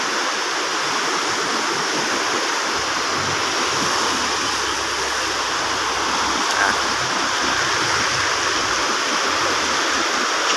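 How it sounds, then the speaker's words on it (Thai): A loud, steady roar of floodwater rushing fast through a canal after rain fills the whole stretch, constant and unbroken, with no voices. "ก็พามาดูน้ำนะครับหลังจากฝนตกก็มีน้ำไหลแรงมากนะครับ"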